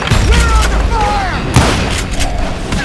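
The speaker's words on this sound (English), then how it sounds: "Who's shooting at us?" Gunfire rings out in the Western video game Call of Juarez Gunslinger: several loud, sharp gunshots and booming reports in quick, irregular succession, mixed with bursts of shouting.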